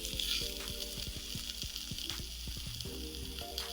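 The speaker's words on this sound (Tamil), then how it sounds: "இதை லேசாக வதக்கி விட்டுடலாம் 1 நிமிஷம் மட்டும்." Sliced onions and slit green chillies sauté in a hot pan for potato masala, giving a steady close sizzle and crackle with light stirring scrapes throughout, no talk.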